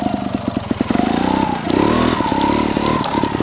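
A TRS 2023 trial motorcycle engine runs through a turn, its mid-pitched buzz steady and close with a revving rise partway, no talking.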